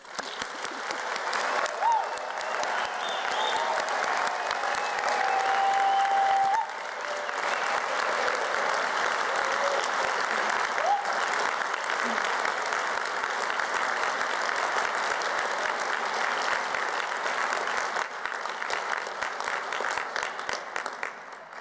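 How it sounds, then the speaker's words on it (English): A large audience at a Glasgow degree ceremony gives graduates a long, loud round of applause, dense continuous clapping with a few scattered voices, holding steady throughout. "Let's give you fantastic graduates another big round of applause"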